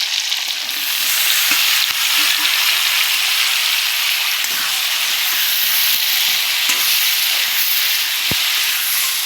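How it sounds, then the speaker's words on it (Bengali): Spring onion stalks frying in hot oil in a dhaba-style home kitchen, a steady loud sizzle with broad hiss throughout, broken by a few soft stirring knocks and one sharp clink near the end. "এই যে পেঁয়াজ কলিগুলো দিয়ে দেবো আগে। পেঁয়াজ কলিগুলো দিয়ে দিলাম।"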